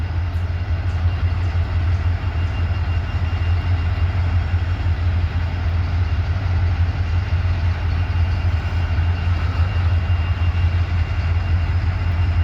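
A rebuilt SD70 diesel locomotive with a fresh repaint idles at a rail yard, its engine giving a steady, loud low rumble with no breaks and no voices.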